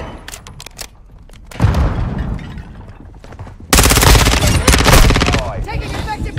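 Gunfire in the shooter Modern Warfare 2 during a Hardpoint match on La Casa with the ISO 9mm: quiet scattered shots give way to louder bursts, then a sharp, sustained close-range volley of rapid fire in the second half.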